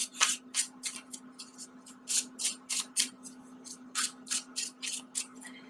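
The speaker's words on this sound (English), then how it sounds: "I'm going to do a really quick additional shuffle" A tarot card deck being shuffled close up, a quick series of crisp papery riffle bursts in an irregular rhythm, alone over a steady low hum.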